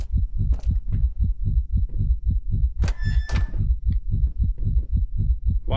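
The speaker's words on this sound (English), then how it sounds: "Why is my heartbeat rising?" A heavy, booming heartbeat from the Layers of Fear horror game thuds in a steady fast double rhythm, loud and close, with a brief harsh scraping noise in the middle.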